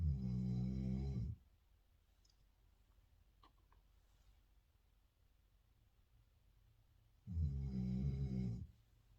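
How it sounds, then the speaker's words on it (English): A dog snores in two long, low rasping breaths, one at the start and one near the end, with quiet room stillness and faint ticks between them. "that is my dog snoring"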